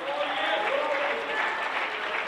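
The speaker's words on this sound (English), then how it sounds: "Clap your hands to the Lord." A church congregation claps together, a steady wash of applause with voices mixed in beneath it.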